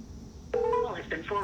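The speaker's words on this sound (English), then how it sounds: "it's going to voicemail" A phone call rings through a handset and drops to voicemail, heard as a few clear electronic tones in a rising and falling pattern that start partway in and continue to the end, over a quiet background.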